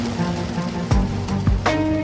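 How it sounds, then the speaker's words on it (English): Heavy rain from a passing fall rainstorm in Philadelphia pours in a steady, loud broadband hiss, broken by a few sharp thuds and a faint humming tone underneath, with no voices. "raining cats and dogs today"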